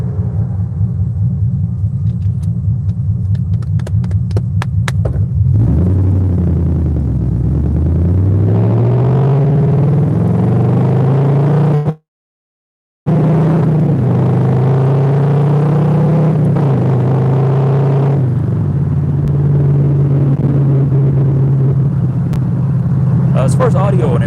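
Inside a moving car, road noise forms a loud, steady low rumble with engine tones that rise and fall in pitch, broken by one brief total dropout partway through.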